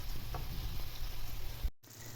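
Tuna and vegetables frying in a pan with soy sauce give off a soft, steady sizzle with faint crackle and no talking.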